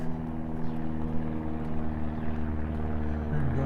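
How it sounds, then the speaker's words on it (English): An airplane passes overhead on Easter Monday along a creek in Regina, a steady low droning engine hum with rich harmonics, loud and sustained across the whole moment. "airplane coming over."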